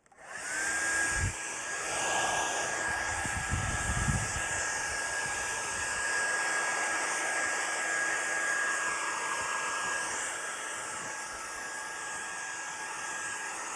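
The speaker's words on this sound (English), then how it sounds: "I also want to dry my hair because that is important." A hair dryer blows in a steady, even whoosh with a faint constant whine, running continuously from start to end after a few brief low thumps early on as it is handled.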